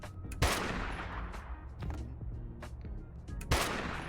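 Gunfire in the video game Dustland Delivery, with loud sharp shots near the start and end over a steady low rumble of game sound.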